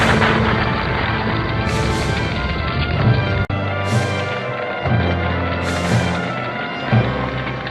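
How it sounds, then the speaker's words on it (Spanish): Repeated deep booms of bombs and exploding fuel at an airport in the Falklands War thunder at roughly one-second intervals over a constant roaring rumble, with a sharp crack partway through. "Siguen las explosiones en el aeropuerto"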